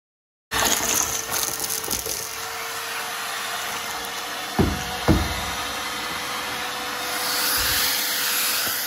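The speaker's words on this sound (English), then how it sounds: "So out here going to town with a vacuum." A vacuum cleaner runs steadily with a constant whooshing roar, broken by a couple of brief thumps partway through.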